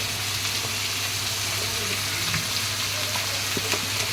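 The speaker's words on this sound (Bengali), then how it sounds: "আমি ভালো করে এবার নেড়ে চেড়ে নেব" Vegetables frying in a pan give off a dense, continuous sizzle under occasional soft stirring scrapes, close and steady throughout, with a low background hum.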